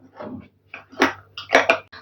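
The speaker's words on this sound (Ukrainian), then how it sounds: "покласти сюди столову ложку цукру і все гарнесенько розмішати" A spoon stirs yeast, sugar and milk briskly in a bowl, close up, making several short bursts of scraping and clinking with brief pauses between, and no talking.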